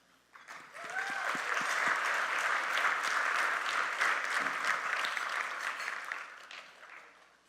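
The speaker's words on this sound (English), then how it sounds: "So I want everyone here to give a round of applause to themselves for creating the future." Gala audience at an annual general meeting breaks into a round of applause that swells quickly, holds steady and full for several seconds, then tapers off, with a few scattered voices early on.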